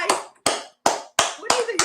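Five sharp hand claps at an uneven pace, close and loud, each a crisp broadband burst with short silent gaps between them; a little voice is mixed in near the end.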